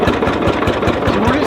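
A Lanz Bulldog tractor, a two-stroke with a 10-litre single cylinder, runs loud and close, its slow regular knocking beats pounding under a steady roar.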